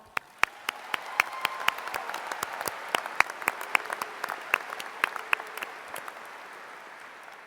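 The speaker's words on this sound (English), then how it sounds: "Please, a round of applause." A commencement ceremony audience applauds steadily with scattered crisp claps that fade slightly toward the end, moderately distant in a large venue.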